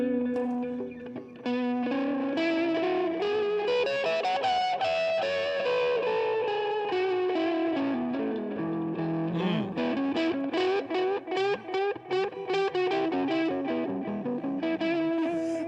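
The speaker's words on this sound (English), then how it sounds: "I got the El Capistan Tape Echo." Electric guitar played through a Strymon El Capistan tape echo pedal, a melodic distorted line with repeating echoes and a chorus-like wobble, loud and close with no talking.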